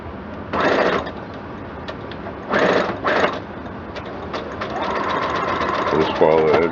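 Sewing machine stitching a fabric face mask seam in short bursts: three quick runs of rapid mechanical whirring, then a longer steady stretch of stitching, with quiet talk underneath.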